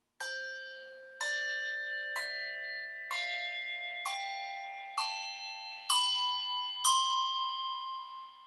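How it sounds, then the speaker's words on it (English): Lower-octave bells beginning at C5, struck with mallets: eight separate strikes rise steadily in pitch, each a bright, clear ring that sustains and overlaps the next, played close and alone. "So I have two octave bells"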